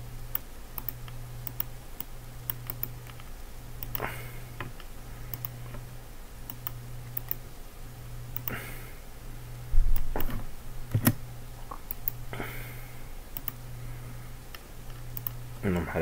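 Keys tapped on a computer keyboard in quick, irregular bursts, faint and close. A steady low electronic hum runs underneath, with one louder thump partway through.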